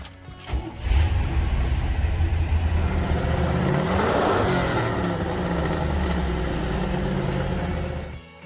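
A 1969 Chevrolet Camaro COPO 427 engine revs loud and close, a deep sustained roar that climbs and swells midway, then holds steady before cutting off abruptly.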